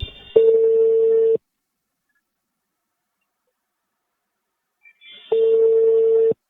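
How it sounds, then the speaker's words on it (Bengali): Phone call to a lift operator, two long steady ringback tones about four seconds apart with silence between, clear and close. "এখন আমি লিফটম্যানকে ফোন দেব"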